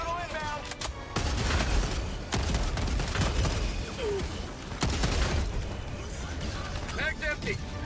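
Orbital strike bombardment in a shooter video game, a dense roll of explosions and gunfire with heavy booms, continuous and loud throughout, with game effects layered in.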